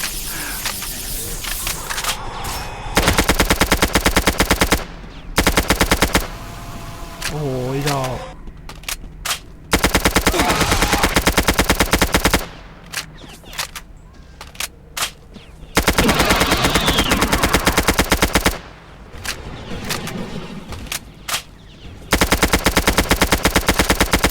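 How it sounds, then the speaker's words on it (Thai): Rapid automatic gunfire from the Roblox game Survive in the Facility Revamp erupts in several loud bursts separated by quieter gaps, with a player's voice talking and exclaiming in between. "เสียงปืนกู"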